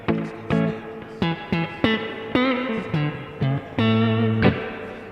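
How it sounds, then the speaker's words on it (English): An electric guitar plays through a Strymon delay pedal's spring reverb, with a series of plucked notes and chords, each struck note trailing into a splashy, metallic reverb tail. "we have a spring reverb that is independent"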